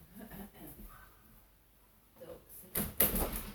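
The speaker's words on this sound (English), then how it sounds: "I'm just going to shut the door" A door thuds shut nearby, with a sharp knock and rattle toward the end after quiet rustling and faint movement.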